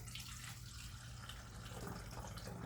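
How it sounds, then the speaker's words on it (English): Water pours steadily from a tap into a bottle being filled about a third full, a continuous soft gurgling rush with no voices. "So you take your bottle and you're gonna fill it up with water, about a third"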